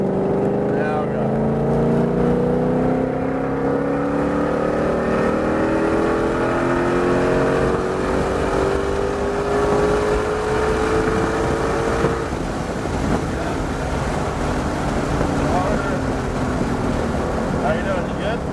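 A 760-horsepower Shelby GT500 accelerates hard on a race track, its engine note climbing through several rising pulls between gear changes, loud and continuous.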